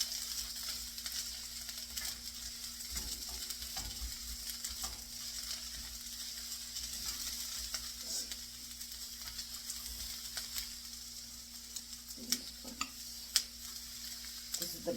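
Cabbage and bean sprouts hiss and crackle in a small, crowded wok, a steady sizzle punctuated by scraping stir strokes and a few louder clanks toward the end.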